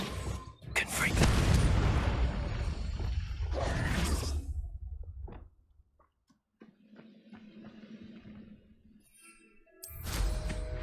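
Confringo fire spell in Hogwarts Legacy, booming blasts and whooshes layered with dense game effects, loud and close, with a stretch of quieter rumble and a final burst, while a player speaks over parts of it.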